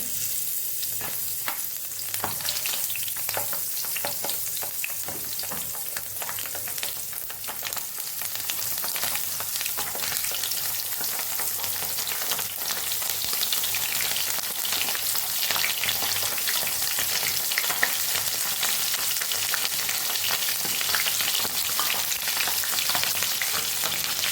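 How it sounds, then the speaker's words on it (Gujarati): Stuffed green chilies filled with coriander-cumin masala deep-fry in hot oil, a steady, dense sizzle and crackle that holds evenly for the whole stretch with no talking. "તો હવે આપણે મરચાંને તળવાના છે।"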